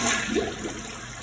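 A toilet flushing during a move-out cleaning inspection, a steady rushing swirl of water filling the short moment, fairly loud and close with no talking.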